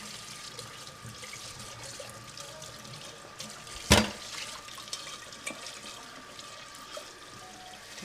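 Kitchen faucet water runs steadily at a sink while dishes are scrubbed clean with a brush, a soft continuous hiss with one sharp clatter partway through.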